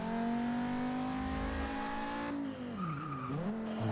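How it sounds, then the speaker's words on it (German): An Audi TT in Forza Motorsport 6 holds a loud, steady engine drone that dips in pitch under braking, with tires briefly squealing as the car slides on a sandy road. "jetzt bremst er und plötzlich rutscht er kurz weg"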